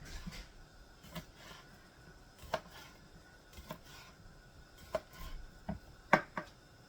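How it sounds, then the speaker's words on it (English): A knife chops through sausages on a cutting board at home, giving a handful of sharp, separate taps spread across the moment, fairly close and quiet against a soft room background. "And we're going to cut these sausages."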